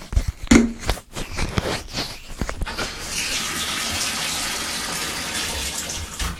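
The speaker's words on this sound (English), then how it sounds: "Nothing like a great shower with my favorite shampoo and conditioner, Nexus." Water from a home shower runs in a steady, full hissing spray that starts after a few brief knocks and splashes and continues to the end, close and fairly loud.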